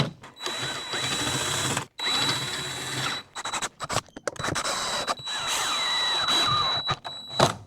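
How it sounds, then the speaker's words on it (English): A power drill with a larger bit whines in several bursts, countersinking screw holes, biting and stopping between runs, loud and close, with a faint high hum underneath. "I'm gonna have to use a bigger drill bit and just drill into those holes"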